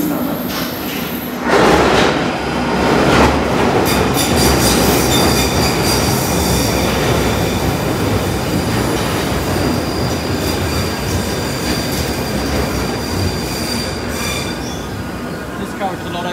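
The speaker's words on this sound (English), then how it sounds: "This is a Northern Line train, terminating at Edgware." A London Underground Northern Line train runs at speed, its wheels squealing loudly against the rails over a steady rumbling roar, with faint clicks of the track joints, continuous and close throughout.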